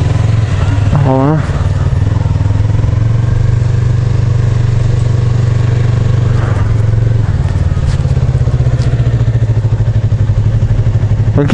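A Yamaha MT 25 motorcycle engine idles steadily and close, a constant low rumble through the whole stretch, with a brief clatter near the start and someone talking over it.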